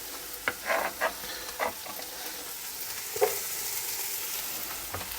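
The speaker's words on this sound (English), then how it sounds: "we gotta get these onions in there as quickly as possible" Onions fry in a pan with a continuous close sizzle, punctuated by a few soft stirring scrapes and clatters early on.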